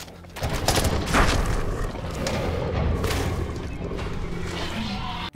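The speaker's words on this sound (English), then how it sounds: "there's a really funny slow-mo shot when some hunters shoot at Blue." Movie gunfire as hunters shoot at a raptor in a slow-motion scene: a loud, sustained barrage of booming shots and crashing impacts, dense and continuous, with a rumbling low end.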